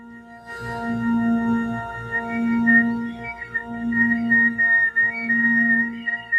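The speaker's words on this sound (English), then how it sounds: "just see if you can gently finesse that whistle tone out" A soft, pure flute whistle tone holds steady, with thin high partials flickering in and out above it.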